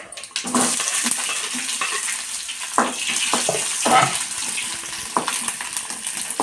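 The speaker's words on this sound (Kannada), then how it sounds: "ಈರುಳ್ಳಿ ಫ್ರೈ ಆಗ್ಬೇಕು." Onions with cumin, mustard seeds and curry leaves fry in hot oil for a brinjal dish, giving a steady close sizzle with occasional stirring clicks from a utensil against the pan.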